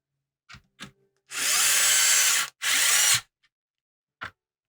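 An electric screwdriver driving screws into a Nintendo GameCube console, two sustained whirring bursts of about a second each with small clicks and taps of handling before and after.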